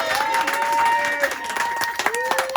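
An audience claps during a 25th anniversary celebration speech, moderately loud scattered applause mixed with a sustained musical tone and some voices in the background.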